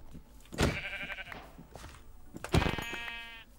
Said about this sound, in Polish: Jeszcze jedna owca.